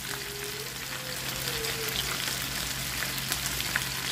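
Chicken adobo with pineapple tidbits sizzling in a hot pan as it browns and caramelizes, a steady close crackling fry with a low hum underneath, no talking.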